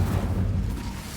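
Incendio fire spell cast in Hogwarts Legacy: a deep, rumbling burst of flame, loud and close, sustained for about a second before easing off.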